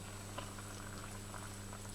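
Freshly boiled water from a kettle is poured into a Gelgoog instant noodle cup, making a faint, steady bubbling trickle against a low hum.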